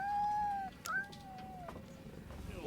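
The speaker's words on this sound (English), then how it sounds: "there's a cat named Cleo in the movie, a little black cat" A little black cat named Cleo meows in a scene from the 1995 film Demon Knight, a clear drawn-out cry followed by a softer second meow, close and moderately loud over a faint background hum.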